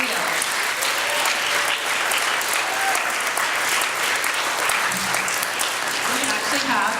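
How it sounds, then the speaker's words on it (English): An audience at an end-of-year award ceremony claps steadily, a loud, sustained round of applause from a full room with a few faint voices beneath. "give him a big whooping round of applause"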